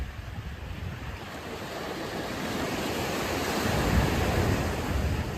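Sea waves rolling onto Vengurla beach in Konkan at evening, beside coconut palms: a continuous broadband surf roar mixed with wind buffeting the microphone, gradually swelling louder toward the end, with no talk.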